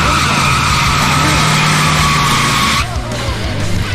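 A Chevy Chevelle does a tire burnout, the rear tires skidding with a loud, sustained screech over a revving engine, the squeal cutting away sharply near the end while the engine keeps roaring.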